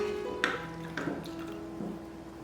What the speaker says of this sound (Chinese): 多搅一会儿，搅到葛粉完全化开